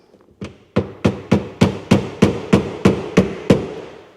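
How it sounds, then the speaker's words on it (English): A hammer taps a rivet pin into place while rock guards are fitted to a car: eleven sharp, loud, evenly spaced metallic strikes, close up and alone, each ringing briefly before the next. "we'll just tap in the rivet pin"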